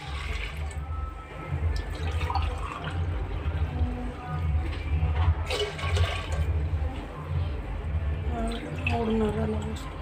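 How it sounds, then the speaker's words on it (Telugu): Coconut milk, ground from grated coconut and strained, pours steadily into a cooking pot for coconut biryani, a continuous liquid gush and trickle running throughout at moderate level. "3 గ్లాసులు కొబ్బరి పాలు పోస్తున్నాను"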